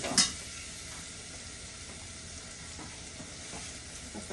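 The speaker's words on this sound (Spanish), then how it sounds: "todos los ingredientes los vamos a integrar, los vamos a dejar sofreír alrededor de unos 2 o 3 minutos, hasta que todo esté bien sofrito." Sofrito ingredients sauté in a pot for stewed beans, habichuelas guisadas. A soft, steady sizzle continues throughout, opening with a brief utensil clink.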